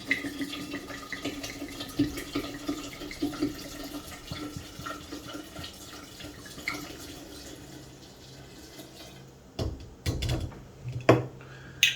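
Red wine pours into a pitcher for sangria, a soft liquid trickle and splash close by that turns busier with clinks and splashes near the end, with no talk.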